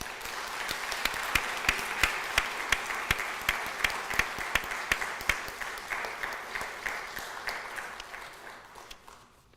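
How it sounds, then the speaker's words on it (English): Sustained applause from a crowd at a graduation pinning ceremony, steady clapping with sharp individual claps standing out, gradually tapering off toward the end. "Let's give these graduates a nice round warm of applause."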